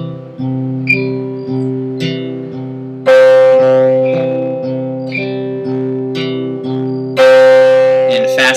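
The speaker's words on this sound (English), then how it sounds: "So I'm going to show you what I did if you want to use that second strumming pattern." Fingerpicked acoustic guitar in a worship style, with thumb and fingers rotating through the strings: steady, loud arpeggiated notes over sustained bass, and brighter accented chords every few seconds.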